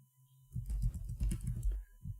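Rapid keyboard typing, a quick run of key clicks close up, pausing briefly before a final tap.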